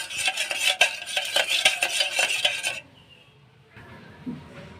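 A tomato mixture with salt, turmeric and tomato sauce stirred in a bowl for tomato chips: rapid close clinking and scraping of a utensil for about three seconds, then quieter scattered handling sounds.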